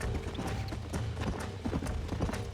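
Horse hooves clip-clopping in a steady rapid rhythm in the video game Red Dead Redemption, moderately close and continuous over low rumbling background noise.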